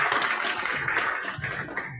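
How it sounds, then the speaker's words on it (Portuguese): A church congregation claps for the children, a brief burst of many hands applauding together at close range that fades slightly toward the end. "Só salve de palmas para nossas crianças"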